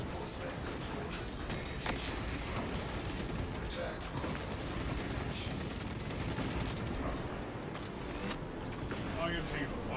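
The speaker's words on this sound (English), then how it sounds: "We can fire the defensive cannons." Defensive cannons aboard a ship in Space Marine 2 fire in a steady, crackling barrage under continuous combat noise, with someone talking over the rumbling volley.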